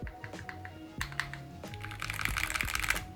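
Typing on a Higround x 100 Thieves mechanical keyboard: rapid, irregular clacking keystrokes close up, growing denser and slightly louder over a few seconds, with no talking.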